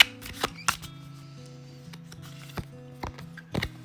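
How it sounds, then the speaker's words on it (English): Tarot cards are shuffled close by, with a few sharp riffling flicks and soft card slaps spread over a quiet backdrop of light, sustained musical tones. "Let's see what the tarot has to say for the week ahead. I am shuffling."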